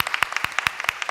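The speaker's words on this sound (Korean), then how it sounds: "우리 환영의 박수로 맞이하겠습니다" Welcoming claps for a newcomer at a Sunday morning church service, a few individual hands beating out sharp, separate, fairly regular claps, close by and alone without talk.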